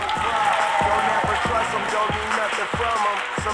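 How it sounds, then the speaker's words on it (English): A crowd at a Boston Celtics and Tarbox School anti-hunger event claps and cheers for the team mascot Lucky, steady applause with rhythmic low thumps under it and some voices mixed in. "Give a round of applause for Lucky."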